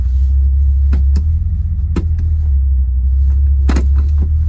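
1973 Ford Gran Torino engine running steadily at a deep, loud idle while gears are selected, with a few brief clicks and knocks from the shifter over the constant low rumble.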